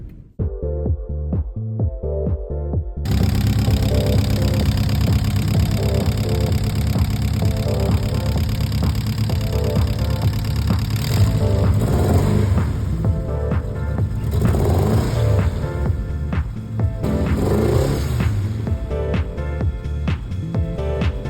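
A car on the road near San Diego, heard from inside as a steady, loud engine drone and road rumble that holds constant throughout, with no talk.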